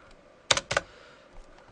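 A few quick keystrokes on a computer keyboard, two short close clusters of clicks in a quiet room, followed by a faint tap.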